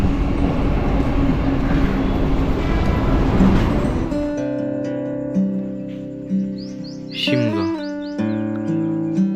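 A local train rumbles loudly into a station for about four seconds, then stops; steady tonal hums and squeaks follow, with faint chirps in the background.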